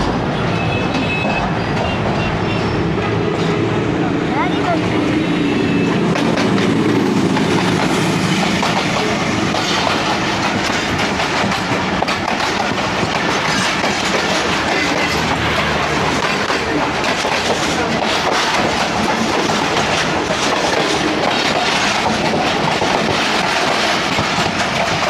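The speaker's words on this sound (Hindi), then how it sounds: "सामने से ट्रेन भी आ रही है कोई" An oncoming train on the Faisalabad to Lahore line rushes past close by, loud and continuous, its wheels clattering steadily over the rails for the whole stretch.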